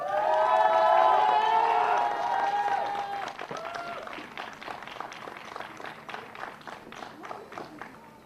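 At the 2020 ROK Cup Superfinal kart racing trophy ceremony in Franciacorta, a crowd first cheers and shouts loudly, then settles into steady, moderately distant clapping that continues to the end.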